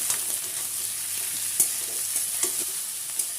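Eggplant frying in a pan with potato and papaya for a Bengali shukto, a steady soft sizzle with occasional sharper pops and stirring clicks, close and fairly quiet, no voices.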